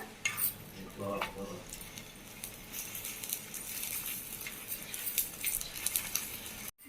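Parotta is laid on a hot oiled pan and flipped, giving a continuous sizzle mixed with metallic scraping and clinks of a turner against the pan.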